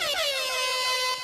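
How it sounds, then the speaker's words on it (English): A loud, blaring horn blast with a bright, harmonic tone, held steadily for about a second and sliding slightly in pitch, with nothing else around it. "Give me an air horn."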